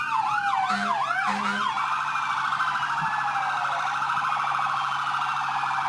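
Fire truck sirens wail loudly and continuously, starting with rapid rising-and-falling sweeps and a couple of short horn-like blasts, then settling into a steady fast warble with a slower sweep beneath it.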